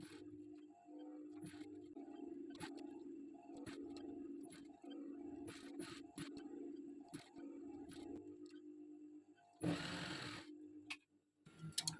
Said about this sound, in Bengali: আমি এখন এই সাইড সেলাই করে নেবো